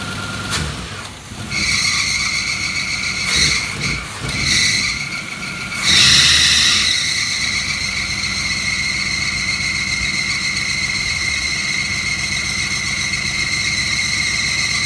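A 1985 Chevrolet El Camino SS barn find, sitting since 2006, runs steadily at idle with a persistent high squeal from a squeaky belt riding over the engine note, plus a few brief louder bursts early on.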